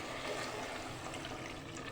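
Roughly half a glass of water pours steadily into a pan of cut potatoes, giving a continuous close watery rush with no talking.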